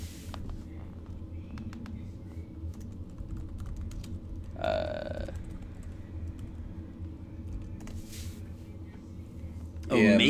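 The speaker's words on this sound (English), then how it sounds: "It's weird typing like this." Keyboard typing at close range forms a steady run of soft clicks beneath a constant room hum, broken by one brief louder noise partway through.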